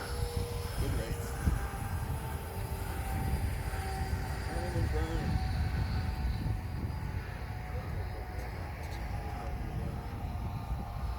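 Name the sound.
E-flite F15 RC jet flying overhead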